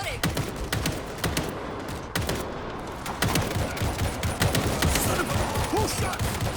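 Sharp, rapid gunshots ring out in a first-person video game shooter, firing in quick repeated bursts through the whole stretch, loud and close, with faint game voices underneath.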